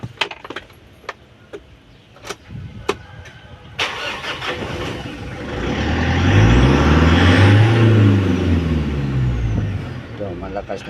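A vehicle engine with a suspected fuel knock is cranked and restarted after some clicks and knocks, then revs up in a loud, rising and falling roar that swells and holds near the microphone.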